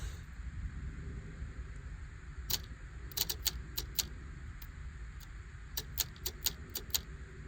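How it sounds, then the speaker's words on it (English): Sharp, repeated clicks from the starter solenoid of a 1975 White 2-150 tractor with a stuck engine, coming in quick irregular bursts over a steady low background hum. "well, you can hear it clicking."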